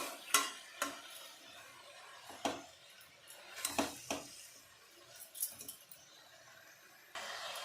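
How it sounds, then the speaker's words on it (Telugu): Mixed vegetable curry with cucumber pieces and spring onion being stirred in a pan, a Bhogi festival dish: sparse, quiet spoon scrapes and soft clinks come at irregular intervals over a faint background, with no talking. "ఇలా బాగా కలిపి ఒక 2 నిమిషాలు మగ్గనివ్వాలి"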